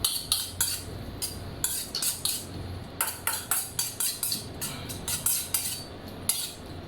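A green mango salad is tossed in a bowl with utensils, producing rhythmic clinks and scrapes of cutlery against the dish in quick bursts, close and clear with no talk.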